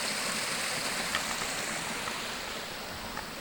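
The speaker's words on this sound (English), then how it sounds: "we are above the primary cascade. Water goes down over that rock face there." Water cascades over a rock face at Crabtree Falls near Montebello, Nelson County, Virginia, a loud, steady rush that fills the whole moment without pause.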